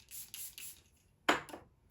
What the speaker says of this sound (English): So I am just going to spray onto my foundation brush instead.